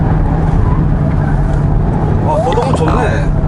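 A Kia Seltos with a 1.6 turbo GDI engine drives along a winding road, heard from inside the cabin as a steady low engine and road drone, with people talking over it.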